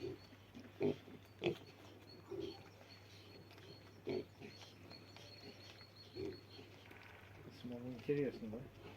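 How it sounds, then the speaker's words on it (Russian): A ginger pig rooting around outdoors gives several low grunts and snorts, scattered and fairly faint, while people talk nearby. "Смотри, смотри, свин рыжий выходит, смотри."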